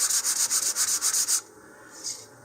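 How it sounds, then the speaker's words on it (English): Rhythmic back-and-forth strokes of a sanding block with 100 to 120 grit sandpaper on model rocket fins, about a dozen quick close rubs followed by quieter, sparse scrapes. "I'm just going to use a sanding block or a sanding tee here"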